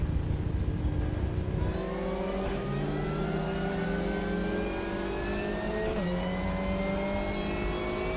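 An Opel Astra TCR race car in RaceRoom revs hard on a lap at Vålerbanen, its engine note climbing through gears with sharp shifts and a loud, continuous mechanical whine, no voices over it.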